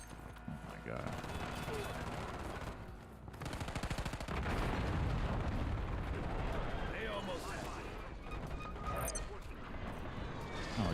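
Incoming artillery fire in Call of Duty: Black Ops 7, a sustained barrage of booming blasts and crackling gunfire filling the whole stretch, loud and dense, with a player talking over it.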